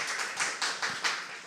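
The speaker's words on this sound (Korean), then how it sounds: "그냥 박수로 한번 맞이해 주셨으면 좋겠습니다." A small high-school church youth group in Gaepo-dong clapping to welcome a new friend, a short run of about six hand claps, close and moderately loud, with no voices.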